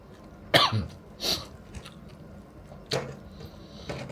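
Several short, harsh coughs from a person nearby, two quick ones in close succession and then another after a pause, with faint throat-clearing sounds in between and no speech.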